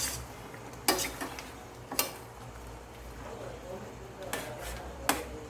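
Pork adobo stirred in a pan, a few sharp spoon knocks and scrapes spaced apart over a low simmering background, fairly quiet.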